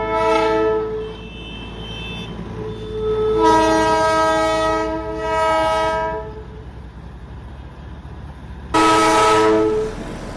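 The Darjeeling toy train passes nearby on the road from Siliguri to Darjeeling, its horn sounding in several long, loud blasts with pauses between them, the last burst the strongest.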